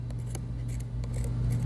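Scissors cut away upholstery fabric on a cornice in several quick, close snips, each a sharp crunching bite set over a low steady hum, with no talking.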